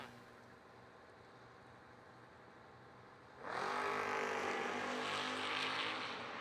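Drag racing cars launch at the start line, among them a Pontiac T1000, a sudden loud roar of engines bursting in after a quieter idle and holding at full volume as they accelerate away.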